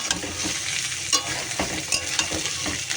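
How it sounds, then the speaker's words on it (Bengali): Potatoes fry with onion in hot oil in a wok, a continuous loud sizzle broken by scraping stirs and brief clatters of a spatula, close up and with no speech. "আগে আলুটা ভেজে নিই পেঁয়াজ দিয়েই ভাজি আলুটা"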